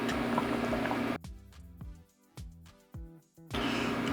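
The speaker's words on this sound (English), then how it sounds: "Now that the rice is boiling, I'm opening the pot and I'm going to stir it around." Rice boiling in a pot on a convection stove, a steady bubbling hiss that drops away as the lid comes off, leaving a few soft clinks of stirring before the boil noise returns.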